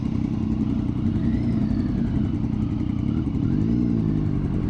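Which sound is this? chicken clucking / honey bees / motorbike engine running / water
motorbike engine running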